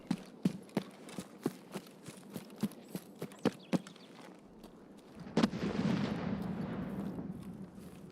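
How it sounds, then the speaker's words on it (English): Faint, far-off gunfire in Escape from Tarkov: a steady series of single sharp reports spaced about every half second, followed by a low rumbling wash of sound, with no talking. "there's gunfire up there"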